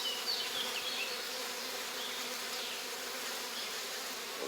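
Honey bees buzzing at an apiary hive during a heatwave, a dense continuous close-up hum that stays loud and even throughout, with no talking.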